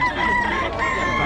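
Chickens cluck and a rooster crows at a poultry market in Bocaue, a close, dense burst of fowl calls lasting only a moment, with no talk over it.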